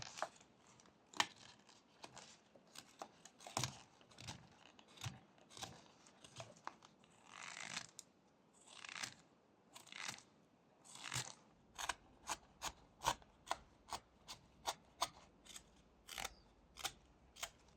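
A knife shaves and cuts at a small carved wooden snail, producing a long series of crisp close scraping snips that grow more regular and evenly spaced toward the end.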